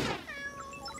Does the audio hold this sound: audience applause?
no